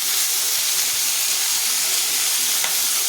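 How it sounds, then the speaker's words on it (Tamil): Tomatoes fry in a pan for a Chettinad-style kuzhambu, giving a continuous loud sizzle and hiss that stays even throughout, with no voices. "தக்காளி நல்லா வதங்கட்டும்"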